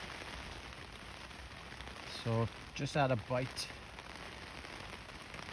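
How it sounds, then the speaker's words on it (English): Rain patters steadily on surfaces at an estuary while flounder fishing, a constant close hiss throughout, with someone briefly speaking over it partway through. "the rain has just started here now"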